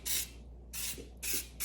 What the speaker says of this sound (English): So I'm just going to spray my bundt pan.